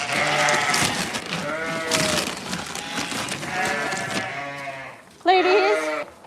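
Loud goat bleats fill the clip, several goats calling over one another in a noisy farm pen, with one sharp nearby bleat near the end.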